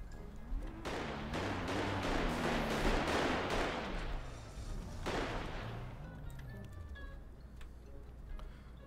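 A rapid series of sharp game gunshots cracks out in the first half, then trails off, with a voice talking over it.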